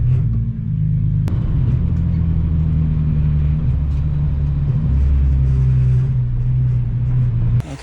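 A race car creeps slowly back along the track with its broken front splitter dragging. A loud, steady low engine rumble continues close up, and a sharp click comes near the start.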